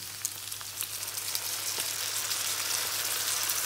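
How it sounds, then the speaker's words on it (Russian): Soy sauce poured into frying chicken with garlic and pepper, setting off a loud, steady hiss and crackle of sizzling close up, with small pops throughout. "И вот наш последний ингредиент, это соевый соус. Просто заливаем."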